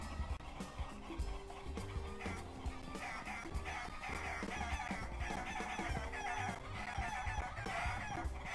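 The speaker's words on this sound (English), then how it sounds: "Look at all them chickens," Chickens in the video game Bad Guys At School cluck and squawk in a dense, overlapping flock, a steady busy chorus of fowl calls at moderate level.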